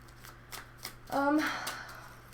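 Tarot cards are shuffled in a quick riffle, a short crisp flutter after a few soft taps, close and brief, with a faint voice nearby.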